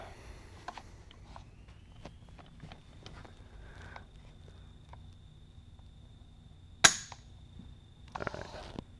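A real AR-15 trigger pulled against a trigger weight gauge breaks with one sharp metallic snap near the end, preceded by faint scattered handling clicks in a quiet room and followed by a brief rattle.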